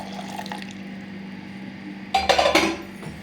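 Boiled and cooled milk pours into a vessel over pomegranate seeds for juice. A short splashing gush comes after about two seconds of quiet kitchen background, with a light clink of a container.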